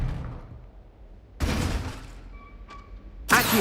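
Expelliarmus spell effects in the Hogwarts Legacy video game: two loud broadband bursts, one midway and one at the end, with a brief tonal shimmer between them over a quiet low rumble.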